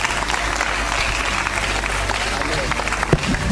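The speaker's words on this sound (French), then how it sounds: "Applaudis le Seigneur parce que Jésus nous a sauvés." A church congregation claps in praise, dense hand clapping filling the room at an even level, with a voice speaking over it.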